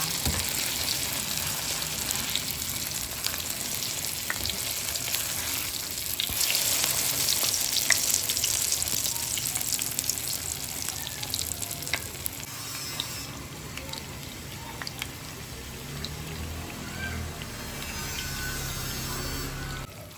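Chayote frying in hot oil makes a steady, dense sizzle that fills the whole stretch, close and fairly loud, with occasional stirring clatter and no talking.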